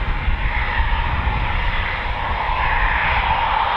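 Military jet of the Nightmare 2-1 flight from a fighter squadron at RAF Coningsby, a steady broadband engine roar holding loud and constant throughout as it powers up for a performance takeoff.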